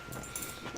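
A dog whimpering indoors, a brief high thin whine over a noisy background, close and fairly faint.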